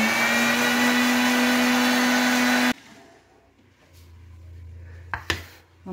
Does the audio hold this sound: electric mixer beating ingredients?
yes